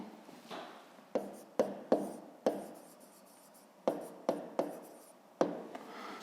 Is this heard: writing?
yes